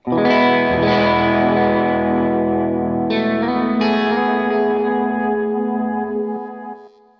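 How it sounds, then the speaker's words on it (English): Distorted electric guitar chords through an HX Stomp amp simulator ring out with heavy effects, a few struck in succession and left to sustain before fading. "Before we go on, let's hear how this amp sounds like."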